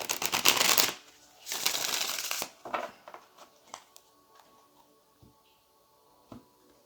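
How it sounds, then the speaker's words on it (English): Tarot cards are riffled and shuffled by hand in two long, dense bursts of rapid flapping, then settle into scattered soft taps and slides as the deck is squared up, close and clear. "Let's get one more shuffle and then dig into the message."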